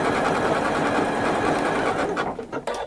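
A Janome Memory Craft 9450QCP computerized sewing machine with automatic presser foot lifting stitching at a fast steady whir, close and loud, then stopping with a few clicks and mechanical taps as the foot lifts.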